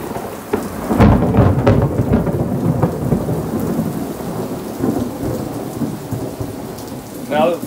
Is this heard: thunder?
yes